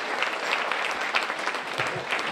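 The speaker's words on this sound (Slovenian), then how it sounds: "En velik aplavz za godbenike, za katerim je že dolg delovni dan." An outdoor crowd applauds a brass band at a May Day celebration in a castle park in Ravne na Koroškem, Slovenia, giving steady, moderately loud clapping that runs throughout.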